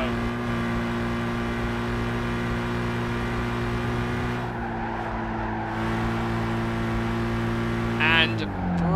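A Volkswagen car's engine drones steadily at constant revs while driving a lap in the racing game Gran Turismo 5, briefly easing off midway, with someone talking over it and a short higher whine near the end.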